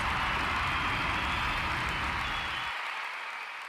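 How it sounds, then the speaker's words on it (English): Applause sound effect played during a sermon, a dense roaring wash of clapping and crowd noise that holds steady, then thins toward the end; no distinct air horn blast stands out. "Give you a little air horn and a round of applause."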